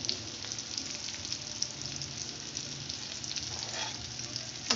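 Stuffed bitter gourds (karela) fry steadily in hot oil in a pan, giving a continuous close sizzle and crackle with a few faint bubbling pops and no talking.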